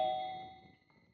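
A single bell rings with a clear metallic tone that fades over about a second, close and alone.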